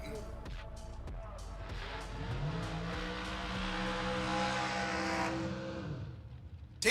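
A race car does a burnout at an outlaw drag racing event at SGMP, the engine droning and rising in pitch with a broad hiss of spinning tires beneath, while an announcer talks over it.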